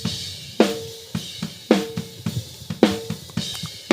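A drum captured through a dynamic microphone is struck in a steady pattern of about seven clear hits, each with a sharp attack and quick decay, close and alone.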